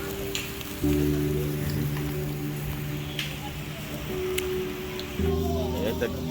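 Rain falls during outdoor grilling at a cabin in Wisconsin Dells, a steady soft patter on surfaces with scattered drips, under a low humming drone that switches on and off.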